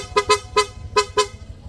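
A PIAA dual horn fitted to a Honda Click V3 scooter blasts five loud, close toots in an uneven rhythm. The dual-tone blare is brighter and fuller than a stock horn, and no one speaks over it.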